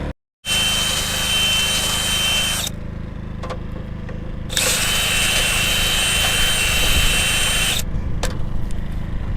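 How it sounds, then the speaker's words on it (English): A power drill with a 1/4 inch bit whirs loudly in two long sustained bursts, enlarging holes, with a brief pause between them and a short rev near the end. "So what I'm gonna do is drill those holes just a little bit bigger"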